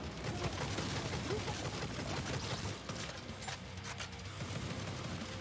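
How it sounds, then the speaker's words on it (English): Upgraded bolter gun firing in Necromunda: Hired Gun, a dense, continuous clatter of shots and impacts over game noise, steady and loud for several seconds. "Quick as possible using my bolter gun that is fairly upgraded."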